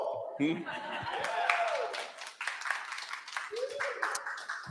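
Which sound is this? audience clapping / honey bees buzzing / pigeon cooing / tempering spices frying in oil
audience clapping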